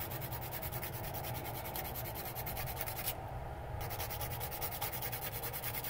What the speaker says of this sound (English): I get all the nails shaped and filed